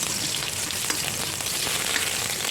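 Garlic sautéing in a pan for a home-cooked dish, a soft continuous sizzle and crackle at low level, close and steady with no talking.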